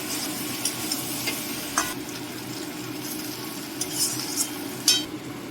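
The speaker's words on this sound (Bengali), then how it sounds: "মাছটা একটু মশলার সাথে একটু নেড়ে নেবো, বেশিক্ষণ না।" A spatula stirs prawns with spices in a hot pan, giving a soft steady sizzle under occasional scraping and clinking strokes against the metal, close-up with no talking.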